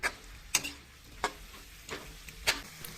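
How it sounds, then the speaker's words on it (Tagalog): Small pieces of pork fry in a pan, rendering their own fat: a faint, low sizzle broken by a handful of sharp, isolated pops and ticks spaced roughly every half second or so. "Sunod, ilagay ang karne sa kawali at palabasin ang sariling mantika nito."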